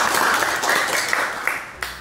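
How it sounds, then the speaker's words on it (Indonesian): Students in a classroom give a round of applause for their classmates, a busy patter of clapping that thins out toward the end, leaving a few separate sharp claps before it stops. "Boleh tepuk tangan buat kalian."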